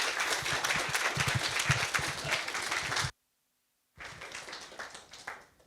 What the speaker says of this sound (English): So can we please have a round of applause for tonight's speakers.